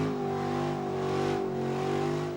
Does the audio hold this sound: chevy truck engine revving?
yes